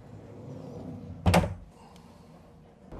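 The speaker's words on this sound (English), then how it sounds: "the entire cabin or entire hall in this case can close with a sliding door" A sliding cabin door on a Leopard 43 power catamaran closes with a single firm thud, preceded and followed by quiet interior room tone.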